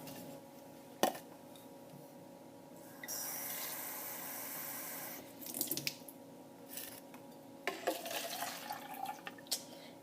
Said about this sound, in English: we're going to be filling 3 cups of water up